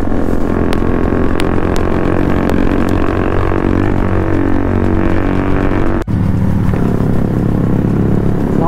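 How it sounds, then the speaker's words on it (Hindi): A parallel twin cylinder superbike exhaust rumbles loudly and close, a steady deep throb with clattering ticks, briefly dropping out before resuming its heavy drone. "भाई एग्जॉस्ट की आवाज़ यार कितनी प्यारी हो गई है ना पहले से"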